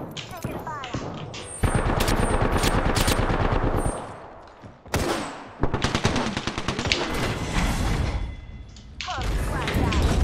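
Rapid automatic gunfire from a battle royale video game, loud sustained bursts with brief pauses and heavy thumps between volleys, with game voice lines briefly heard.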